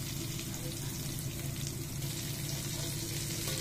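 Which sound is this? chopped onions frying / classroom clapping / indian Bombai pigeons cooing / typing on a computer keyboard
chopped onions frying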